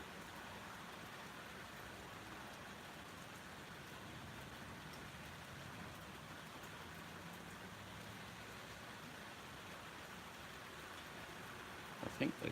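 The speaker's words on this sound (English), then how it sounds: "listen to the rain." Rain falls steadily outdoors in an even, dense hiss that holds unchanged throughout, with a few louder thumps near the end.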